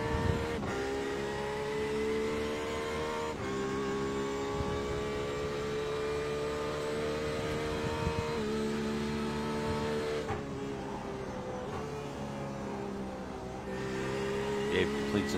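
A race car laps a circuit at night, its engine note loud and continuous, shifting in pitch through gear changes and dropping briefly before climbing again.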